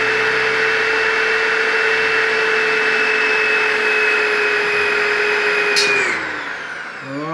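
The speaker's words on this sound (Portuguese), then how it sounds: "Não é difícil furar. A broca tá ficando cega" An electric drill bores a hole with a dulling bit while making a burner for a fireplace and oven, giving a loud, steady motor whine with a strong tonal hum for about six seconds before it winds down and stops.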